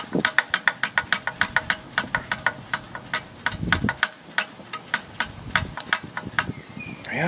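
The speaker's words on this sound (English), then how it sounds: "engine's stopping now" Stuart Victoria steam engine running down on steam from a Stuart 500 boiler with little pressure left, a rapid regular ticking and chuffing beat, close and clear, with a faint voice briefly underneath.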